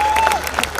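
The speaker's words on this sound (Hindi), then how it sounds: "तालियां कम बज रही है" Audience at a Hindi poetry gathering (kavi sammelan) clapping in a brief, dense burst of applause from a crowd, steady and fairly loud throughout.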